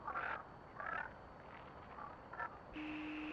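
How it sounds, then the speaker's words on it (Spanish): Radio station static in the video game Oxenfree II forms warbling, croaky bursts that resemble a frog-like voice, followed by a steady electronic tone, all faint and alone. "aquí tenemos una emisora. Que suena la Rana Gustavo"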